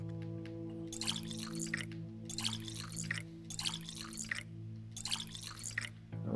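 Dirty water poured out in the video game Pathologic 2, heard as four repeated bursts of splashing liquid over a steady low game hum, moderately loud and close, with no talk.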